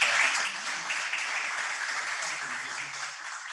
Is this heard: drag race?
no